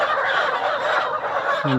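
A dense flock of layer hens at a poultry farm during delivery makes a loud, continuous clamour of overlapping clucks and squawks, with one clearer call rising near the end.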